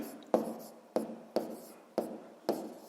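A pen writing a physics formula on paper, heard as five evenly spaced scratchy strokes, close and fairly soft, each fading quickly.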